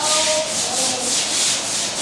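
A surface in a garage being renovated is scrubbed by hand, a close, rhythmic rasping rub repeating in steady strokes, alone without talk.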